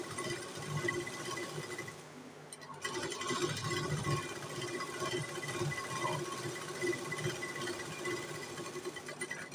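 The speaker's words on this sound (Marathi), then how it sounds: "त्या साईडून शिलाई मारायची." Sewing machine stitching a katori blouse at the waistband seam, running in a steady close whir after a brief pause near the start, with no talking.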